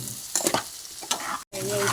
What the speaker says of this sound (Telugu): ఫ్రై అవుతున్నాయండి.